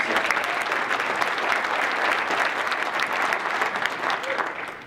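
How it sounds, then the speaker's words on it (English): Applause from an audience at a local officials' meeting about Fort Benning cuts, dense steady clapping throughout at a fairly loud, even level, with no voices on top. "I think that deserves a round of applause."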